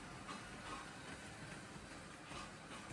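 A motorized LEGO Crocodile locomotive rolls along its plastic track, giving a faint, steady whirring rumble with light rhythmic clicking that continues without pause.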